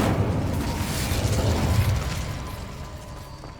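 A burst of fire from the Incendio spell in Hogwarts Legacy, a loud whooshing blast that thins out over about three seconds.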